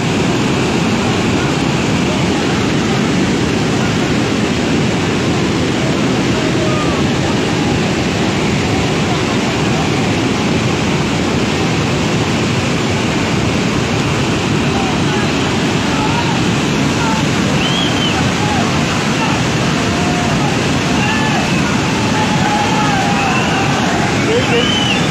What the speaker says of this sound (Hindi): पानी रोड पे चढ़ गया है